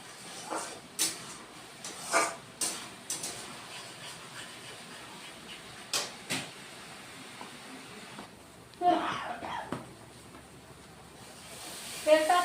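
Tomato paste frying in hot oil for a Bengali rohu fish kalia gives a soft, steady sizzling hiss with scattered louder pops and crackles, faint and close throughout.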